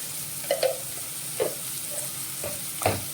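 Cucumber and drumstick pieces fry with salt and turmeric, a soft, steady sizzle broken by several distinct stirring scrapes at intervals.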